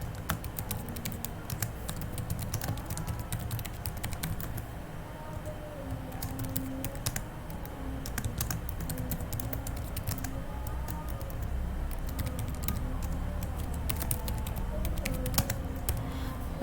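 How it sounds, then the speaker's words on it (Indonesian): Steady, fast typing on a computer keyboard: many light key clicks patter continuously for over sixteen seconds at a moderate, close level, with no talking. "kita bisa ketikkan terlebih dahulu untuk laporan apa yang sedang kita kerjakan."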